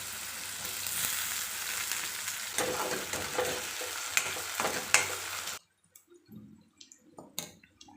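Onion and small potato pieces for poha fry with a loud, close crackling sizzle and stirring scrapes, then the sizzle drops away abruptly, leaving a few faint clinks and splashes.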